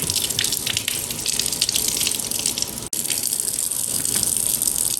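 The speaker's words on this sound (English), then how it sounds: "we're just going to run these under the water and get all the char off them" Steady gushing tap water pours over roasted, charred chili peppers held under it to rinse the char off, a close, continuous splashing rush with a brief break near the end.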